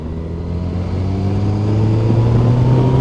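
Motorbikes riding on a road in North Wales, a loud engine drone with rising harmonic tones as the bike accelerates and holds speed, steady and close throughout, without talk.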